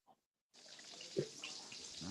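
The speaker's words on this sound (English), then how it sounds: "you got running water in the background" A steady hiss of running water, like a tap flowing, fills the short clip after a brief pause, quiet and continuous.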